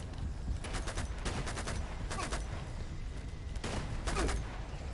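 Video game firefight in Uncharted 2: bursts of rapid automatic gunfire in several clusters over a constant low rumble, loud and close, with no voices over it.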